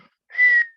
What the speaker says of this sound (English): When wind is coming through the windows